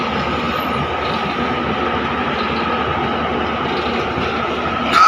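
Steady rumble and hum of the KOAA JAT Express train at Ayodhya Cantonment railway station, loud and continuous, with a sharp rise at the very end.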